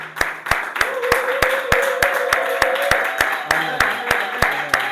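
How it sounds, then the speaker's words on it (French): A church congregation at a French-language worship service claps in a steady rhythmic beat, loud and close, to praise the Lord, with voices calling out and a sustained sung or shouted tone running beneath the claps. "Quelqu'un peut acclamer le Seigneur pour le message?"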